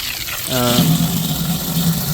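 Water runs steadily into a homemade quail waterer during a fill test for baby Coturnix quail, a continuous close gushing stream that starts abruptly and keeps flowing, with faint voice-like hum underneath.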